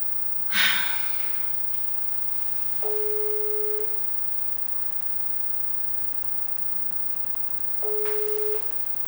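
A phone call's ringback tone sounds twice, each a steady electronic beep about a second long, separated by several seconds of quiet line hiss after a brief breathy noise at the start.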